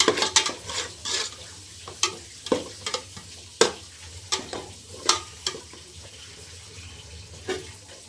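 Ginger garlic paste frying for chicken biryani, stirred with sharp repeated scrapes and clinks of a spoon against the pot over a low sizzle, close and without speech.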